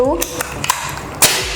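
An air rifle charged at 1700 PSI fires a few short, sharp mechanical cracks and clicks, each brief and close, with a faint metallic creak between them and a voice briefly audible at the start.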